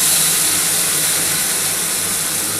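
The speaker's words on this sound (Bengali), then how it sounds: "এই তেলটার মধ্যে আমি কিন্তু এই যে পোস্ত বাটা আছে কাঁচা লঙ্কার সাথে দিয়ে দিলাম" Poppy seed paste with green chilli sizzles in hot oil, a loud, steady, close hiss that holds evenly without pause.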